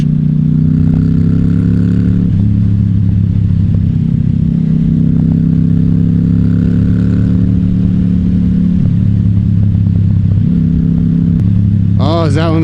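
A Harley motorcycle is ridden on rough roads with the throttle slipping, its loud, steady engine drone shifting pitch as the revs change, with wind roar throughout and a brief higher whine near the end.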